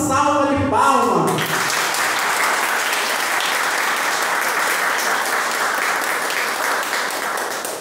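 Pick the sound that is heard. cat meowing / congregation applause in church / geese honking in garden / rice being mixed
congregation applause in church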